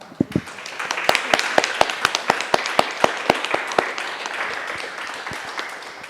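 Delegates at the Geneva Red Cross general assembly applaud to approve committee members by acclamation, with sharp, distinct claps starting sparse, thickening into a lively burst of applause, then thinning out toward the end.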